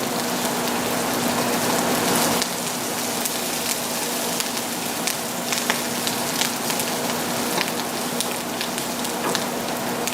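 An onion and garlic mix with parsley sizzles in a pan, a dense, continuous crackling hiss dotted with small pops. It stays loud and even from start to finish, with no talking.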